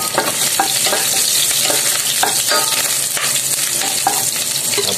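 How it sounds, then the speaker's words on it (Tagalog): Garlic sautéing in hot cooking oil, a steady loud sizzle with repeated scraping stirs of a utensil in the pan, close and without talk. "igigisa na natin ang ating bawang"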